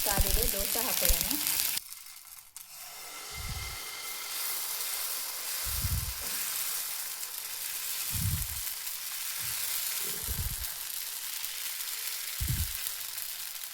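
Dosa batter sizzles on a hot griddle in a series of bright, loud bursts, each a second or so long and spaced a couple of seconds apart, over a steady hiss. A brief voice is heard at the start.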